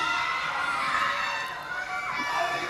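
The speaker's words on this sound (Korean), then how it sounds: "もうものすごい歓声ですよ" A big crowd of fans at a Demon Slayer film event cheers and shouts, a loud sustained roar of many excited voices filling the room without a break.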